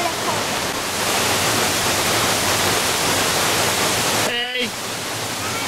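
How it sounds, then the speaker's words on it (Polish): A waterfall roars in a constant loud wash of rushing water, close and unbroken, with a brief voice cutting in near the end. "wodospad"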